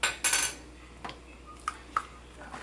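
Spoon scooping heaping tablespoons of cocoa into a Breville hot cocoa maker, a sharp scrape and clink at the start, then a few light taps on metal, close and fairly quiet.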